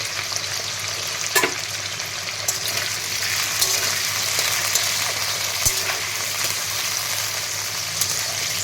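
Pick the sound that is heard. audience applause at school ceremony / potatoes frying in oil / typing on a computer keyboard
potatoes frying in oil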